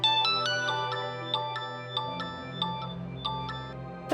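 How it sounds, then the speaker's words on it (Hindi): A mobile phone rings indoors in a Hindi family TV drama. Its electronic ringtone repeats a bright melodic pattern at a steady pace and plays fairly quietly, with no voices. "अरे किसका फोन है बेटा? बार बार काट रही, उठाती क्यों नहीं?"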